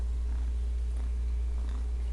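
A cat purrs close by, a steady low rumble running unbroken throughout with no other sounds over it.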